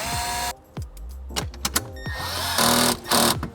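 Tightening a 10mm bolt to ground a cable during a 2020-2025 Toyota Tundra amplifier install: short whirring bursts of a small power tool, with clicks and mechanical rattles, close by and without speech.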